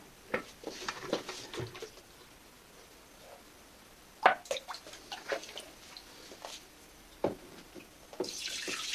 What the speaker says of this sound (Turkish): Küçük bir kova yardımıyla suyumuzu eklemeye başlayacağım